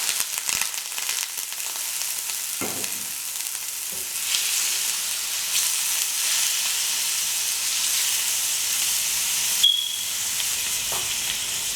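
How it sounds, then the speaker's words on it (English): Deveined shrimp sizzle in hot oil in a pan, a loud, steady, hissing crackle that runs throughout with a few brief clatters. "So I have some oil heated in my pan. And then what I'm going to do is just add my shrimp."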